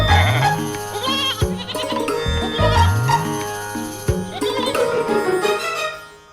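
Several goats bleat repeatedly in a loud, close chorus of wavering cries, overlapping one another against a busy background with a faint bell-like tone.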